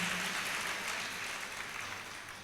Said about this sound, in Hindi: एक बार जोरदार तालियां बजाइए भाई इनके लिए।